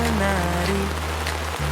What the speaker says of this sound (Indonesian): hujan turun tanpa henti